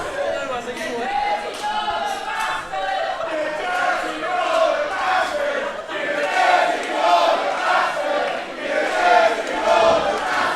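Pro wrestling crowd packed into a bar chanting in rhythmic pulses, a swelling group of voices rising and falling over about ten seconds, close and lively.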